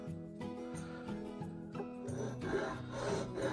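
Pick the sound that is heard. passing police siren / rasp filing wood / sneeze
rasp filing wood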